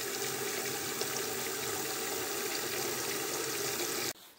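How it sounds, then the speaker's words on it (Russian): Water pouring steadily into a pot for scalding poultry in a village yard, a continuous close broadband rush that stops abruptly near the end. "Наливаем воду, чтобы их ошпарить."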